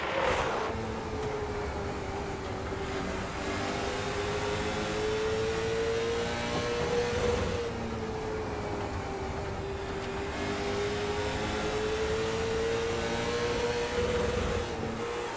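Ford Mustang and Chevrolet SS race cars lapping Southern National Motorsports Park in the iRacing game give a steady, loud engine drone with a rising and falling pitch line that runs through the whole stretch, with no talk.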